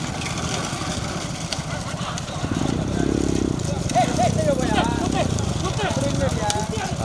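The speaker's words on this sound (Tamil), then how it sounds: "குதிரை" Horse hooves clip-clopping during a horse cart race in Pudukkottai district, a rapid rhythmic trot heard over a continuous engine drone and crowd noise, with people talking throughout.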